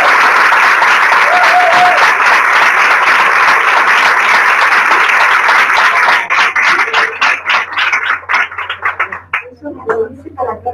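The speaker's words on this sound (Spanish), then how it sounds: "Muchas gracias, nos damos un aplauso." Audience applause at a World Voice Day event, loud sustained clapping from a crowd for about six seconds, then breaking into sparse individual claps that fade out.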